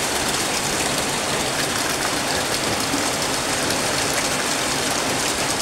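An Aquaspeed submersible water pump running in a koi pond, producing a steady, loud, even rush of splashing water with no pauses throughout.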